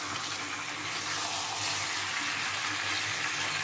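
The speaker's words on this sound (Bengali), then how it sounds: "এইবার কষে নেব, আর বেশিক্ষণ কষতে হবে না" Mutton curry with bottle gourd being sautéed in a pan gives a steady, dense broadband hiss of cooking, continuous and fairly loud throughout with no talk.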